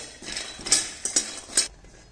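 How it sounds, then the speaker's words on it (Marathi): Peanuts roast dry in a pan while being stirred, giving a few close scraping clatters and rattles over a quiet background, with no speech. "तर इथे शेंगदाणे चांगले असे भाजून घ्यायचे"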